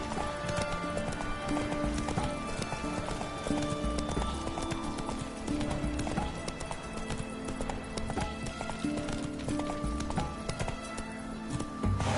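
A horse in The Witcher 3 gallops with a fast, continuous clip-clop of hooves over a busy game soundtrack, with a faint snort or whinny and a brief voice nearby.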